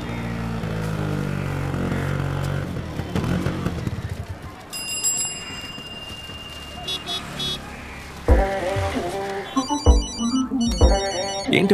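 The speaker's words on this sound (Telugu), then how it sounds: "ఏంటి మేనేజర్ పొద్దునే ఫోన్ చేస్తున్నాడు?" A mobile phone rings with an electronic ringtone for an incoming call from a manager, sounding in two bright, repeating bursts separated by a pause over a murky, noisy background.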